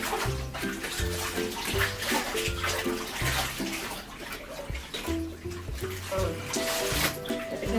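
Laundry is rinsed by hand in a bathtub: steady splashing and sloshing water continues throughout while a person talks over it.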